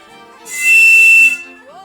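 A single shrill, steady whistle from a ceramic bird whistle, held for under a second, loud and close, with faint talk before and after.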